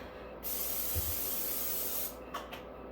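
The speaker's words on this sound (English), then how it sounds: "I am gonna give it a quick spray." A single quick spray from a spray bottle in a home kitchen, a sustained hissing burst lasting over a second and a half, close and fairly quiet, ending abruptly.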